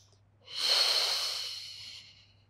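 A single audible in-breath during a beginner Pilates spine mobility exercise, a soft airy inhale swelling and fading over about a second and a half, close and alone.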